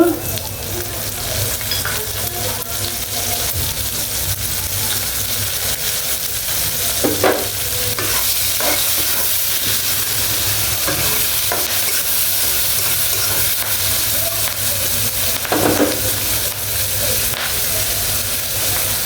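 Onions fry in a pan for a Chepa Shutki dish with eggplant and potato, making a loud, continuous close sizzle and hiss punctuated by a few scraping stirs.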